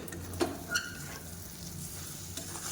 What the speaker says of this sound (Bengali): মশলাটা ভাজা ভাজা হয়ে গেছে, দেখো বন্ধুরা কত সুন্দর তেল ছেড়ে দিয়েছি।